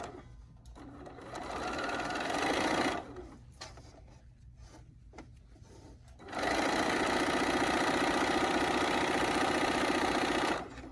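A sewing machine runs in two loud bursts of rapid, even stitching, separated by a quieter pause with light handling sounds, as it back tacks on a pin cushion project.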